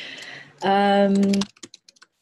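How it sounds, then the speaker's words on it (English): A short humming tone gives way to a handful of light, scattered keyboard clicks, close by and quiet. "She's just typing a message"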